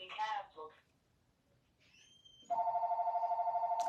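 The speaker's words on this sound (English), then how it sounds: "my business line is ringing" A business telephone rings with a steady, pulsing electronic trill that begins abruptly after a short stretch of talk and a quieter tone, continuing clearly until the end.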